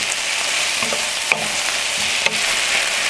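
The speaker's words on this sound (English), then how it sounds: "Add in the mushrooms. Mix it all up." Mushrooms being stirred in a hot pan for an udon stir-fry: an even sizzle with two sharp utensil clinks against the pan and light scraping, no voices.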